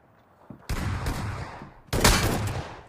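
Shotgun blasts in a video game: two loud booming shots with short ringing tails, the second heavier, set against near silence.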